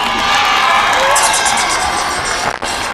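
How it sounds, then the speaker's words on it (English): A football crowd at a community final between Nyambai and Gidda cheers and claps as the teams come out, a dense continuous roar with shouting throughout, fading slightly at the end. "Can we clap for the two teams as they emerge from the dressing rooms?"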